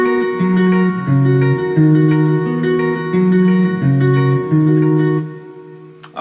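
A distorted electric guitar plays a riff alone, chugging power chords in a steady repeating pattern with a fast punk rhythm, then ringing out and stopping near the end.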